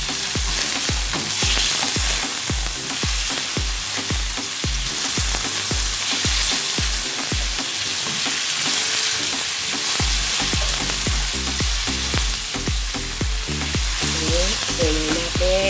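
Green chili fries in a pan while tilapia pesa is being cooked, producing a loud, continuous sizzle with a steady run of scraping stirs and clinks all the way through.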